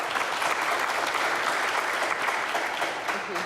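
A comedy show audience gives a round of applause: dense, continuous clapping from a sizable crowd, steady and fairly loud throughout, with no talking over it.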